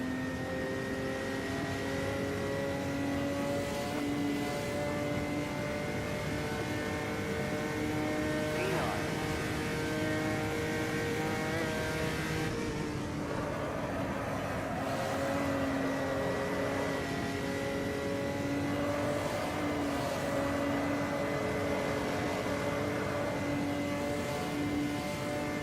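An Opala 86 stock car races around Interlagos in the Automobilista sim, its engine droning loud and high-revving without pause, with a brief dip as a gear shift comes midway before the revs climb again.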